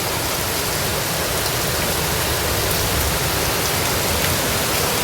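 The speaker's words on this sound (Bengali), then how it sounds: "কী পরিমাণে বৃষ্টি হচ্ছে।" Heavy rain at night in Kolkata, a dense, loud, unbroken roar of downpour with no pauses and no voices.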